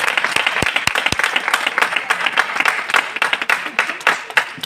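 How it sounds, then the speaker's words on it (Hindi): A church congregation at a Christmas sermon breaks into loud applause, a thick crowd of claps with a few sharp nearby hand slaps standing out above the steady roar. "ज़ोरदार तालियां"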